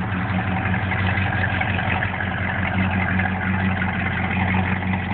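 A 1951 Ford F1 pickup truck engine idles steadily with a smooth, even low rumble through its dual exhaust, a continuous close sound with no voices.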